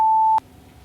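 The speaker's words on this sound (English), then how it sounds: "this is an actual, me actually recording a sine wave in Pro Tools" A pure 880 Hz sine-wave tone recorded in Pro Tools holds steady and clean for under half a second, then cuts off abruptly into quiet room hiss.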